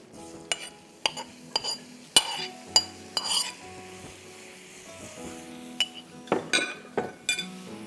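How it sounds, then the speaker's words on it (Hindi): Chopped egg cooking in two tablespoons of oil in a pan: a spoon stirs and clinks against the metal in irregular sharp taps over a faint sizzle, with no talking. "2 टेबलस्पून ऑयल में मैं ये अंडा कट डाल रही हूँ, और इसको मैं बहुत अच्छी तरह से कुक करूँगी।"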